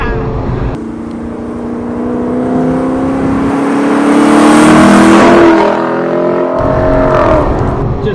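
A Lexus LC 500 Tarantula Edition accelerates and cruises, its engine note rising and falling in loud, continuous harmonic sweeps from inside the cabin, with occasional exclamations over it.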